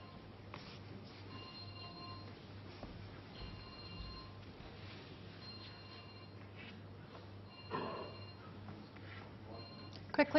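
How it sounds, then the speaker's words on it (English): A mobile phone rings faintly somewhere in the Crucible audience during a World Snooker Championship semifinal, its repeated electronic tone pattern buried under quiet arena murmur and room noise. "there was a phone ringing there somewhere in the Crucible"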